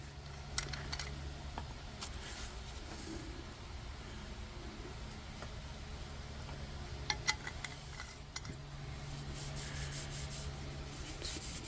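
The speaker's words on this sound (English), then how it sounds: "we're just going to give it a wipe down with some denatured alcohol" A metal tent stove being wiped down with denatured alcohol by hand gives off soft, continuous rubbing strokes with a few light clicks, quiet and close, with no talking.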